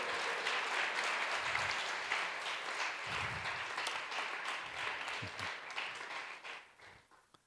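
A crowd applauds loudly and steadily, the clapping sustained for several seconds before fading out.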